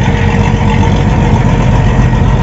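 A loaded box truck with a tandem axle on the BR-376 highway in traffic, its heavy diesel engine rumbling steadily and loud up close throughout, with no talk.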